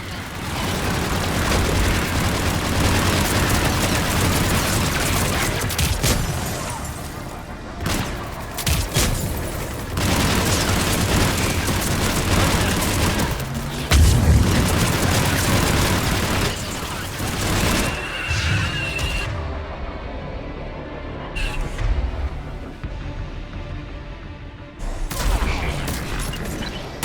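Missiles strike and explode during a Mass Effect 3 battle on Thessia, with loud booming blasts and crackling gunfire rolling almost without pause, a few sharp heavy impacts standing out and quieter gaps near the end.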